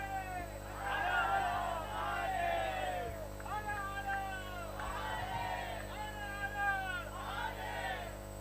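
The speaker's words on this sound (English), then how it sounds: "A loud cheer from the Royal Strikers in the way they have entered into the finals" A loud, sustained crowd cheer from Royal Strikers supporters at a cricket final, with whoops and yells rising in repeated swells over a steady background drone, filling the whole stretch.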